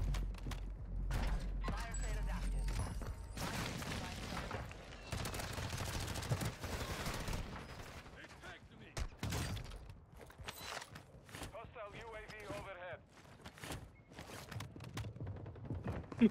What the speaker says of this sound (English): No, I was getting shot from two angles, bro.